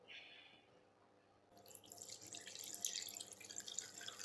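Salt brine for raw mango pickle is poured into a vessel, a faint drip at first and then a steady close splashing trickle, with no talking.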